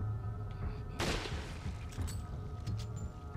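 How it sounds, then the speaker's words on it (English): One sharp warning gunshot in Resident Evil 4 cracks out over low game ambience, followed by a short decaying echo and faint background noise. "give him a warning shot"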